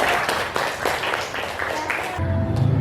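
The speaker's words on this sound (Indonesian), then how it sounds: "Tepuk tangan untuk kelompok." Classmates clap for a group that has just finished a bank reconciliation mind-mapping presentation, a moderate burst of scattered claps that gives way to a voice speaking near the end.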